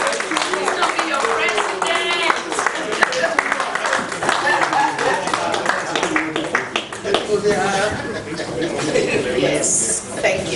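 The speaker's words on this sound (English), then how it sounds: "So give him another round of applause." An audience at a Nigerian sports journalists' convention applauds in a dense, sustained wash of clapping that runs the whole stretch, with a loud voice talking over it.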